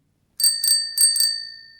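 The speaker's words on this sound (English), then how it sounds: "Or a bell for your handlebars? Yeah, it's a bell." A bicycle handlebar bell rings in two quick double dings, bright and close, each ring decaying cleanly into silence.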